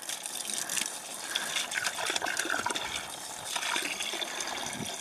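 Water gushes steadily into a big backyard pool, a continuous splashing and trickling stream at moderate distance with no talking.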